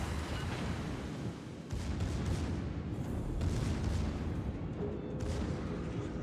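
Warship guns fire in the naval combat game World of Warships, heard as a dense rumbling barrage of overlapping booms that stays loud throughout with a few sharper blasts.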